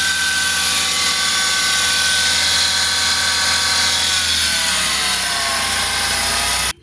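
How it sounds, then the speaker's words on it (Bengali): A Tata Dost Plus pickup truck engine running steadily at idle, a loud, constant mechanical drone with a high whine, close by, cutting off abruptly at the end, no talk. "ইঞ্জিনের সাউন্ড শুনতে পাচ্ছেন খুব ভালো সাউন্ড"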